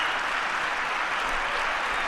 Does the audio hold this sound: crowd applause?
yes